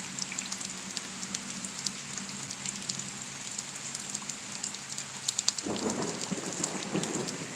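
Morning thunderstorm in Kansas, steady rain hissing on surfaces with low rolling thunder rumbling throughout, a heavier burst of rain or closer thunder swelling near the end.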